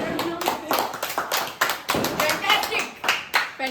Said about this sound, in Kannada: ಚಪ್ಪಾಳೆ ಎಲ್ಲರಿಗೂ.